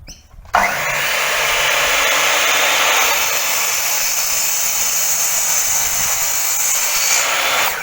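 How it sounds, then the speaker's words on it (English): A drop saw trimming wooden legs to length: the motor whines up sharply after a brief click, then holds a loud, steady, close roar as the blade cuts through the wood for several seconds. "gave these legs a final trim on my drop saw to get them the right length"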